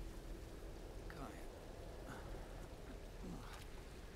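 Steady rain pours down in the Tomb Raider video game, a continuous dense hiss filling the whole stretch, with someone speaking briefly over it.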